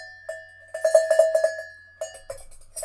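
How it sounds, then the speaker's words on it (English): A bell like a sheep's or cow's bell rings in a quick run of bright, metallic clangs, then pauses and rings again more faintly, standing alone with no voices. "Again in the distance she heard the bell."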